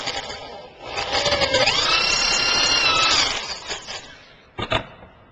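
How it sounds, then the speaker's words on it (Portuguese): A DeWalt power drill bores through a piece of wood backed by a second wooden support block, a loud sustained whine rising in pitch for about two seconds before winding down, followed by a brief knock near the end. "E você faz a perfuração."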